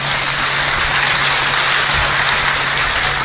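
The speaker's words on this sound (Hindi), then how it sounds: "एक बार तालियों से उन्हें बता दें आप बस" An audience at a Hindi kavi sammelan poetry recital claps loudly and continuously, a thick even roar of applause from start to finish.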